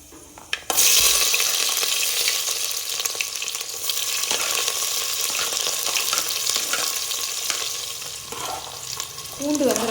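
Peppercorns and small shallots frying in hot oil alongside fennel and cumin for a Madurai-style ayirai fish curry, a loud bubbling sizzle that bursts in suddenly after a quiet start and carries on steadily, with a few soft stirring knocks.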